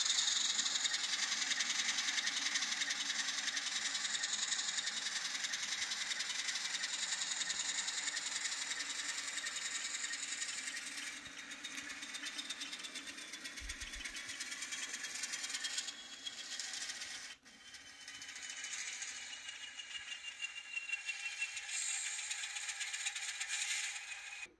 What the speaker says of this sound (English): So I cranked up the speed to hear the sound at high speeds.